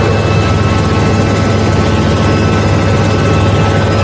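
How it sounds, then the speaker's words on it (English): Steady, loud helicopter engine drone with a deep low rumble and constant broadband roar, unbroken for the whole stretch, with no talk over it. "Why you got all this rocky motion and this engine noise, but the helicopter not actually moving?"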